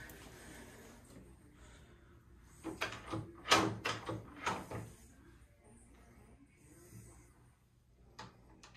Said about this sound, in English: Here's the door.